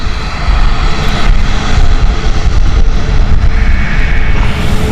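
A Jet2 airliner at Stansted Airport rolls past with a loud, continuous engine roar that holds steady and close throughout, with no talking.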